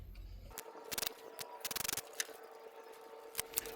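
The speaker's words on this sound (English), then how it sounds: "we're going to remove the screws that hold the coil pack in" A ratchet with a T30 Torx bit loosening coil pack screws on a 2014 Chevy Cruze engine: quiet, close bursts of rapid clicking ratchet ticks in short runs, separated by pauses, with no voices.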